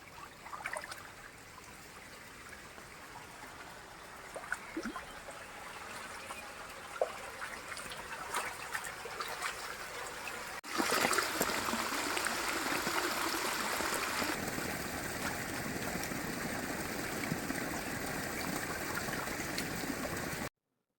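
Water runs from a stream channel into a rice paddy in the Konkan during planting season under heavy rain, a steady close trickling and gurgling flow that swells louder partway through and continues without speech.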